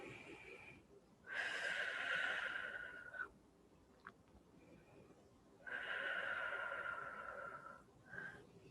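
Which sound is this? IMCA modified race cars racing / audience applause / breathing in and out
breathing in and out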